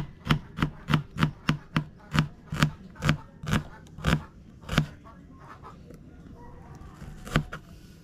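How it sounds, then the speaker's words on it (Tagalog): A knife slicing an onion on a chopping board gives a run of crisp, evenly spaced chops close by, about a dozen in quick rhythm, then a pause and one last cut. "gayat mo tayo ng sibuyas"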